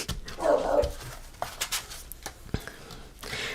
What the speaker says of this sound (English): Jonah doesn't know any better and just barks at him